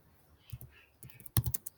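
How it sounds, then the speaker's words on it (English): Typing on a computer keyboard while writing an indented line of text, a few quiet key taps followed by a louder quick cluster of clicks, close up. "Then you are ready to start typing"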